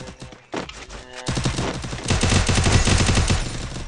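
Rapid gunfire in the battle-royale video game Free Fire: a sharp burst rings out, then a dense, loud string of shots rattles on steadily to the end.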